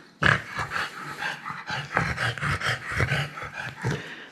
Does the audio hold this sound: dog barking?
yes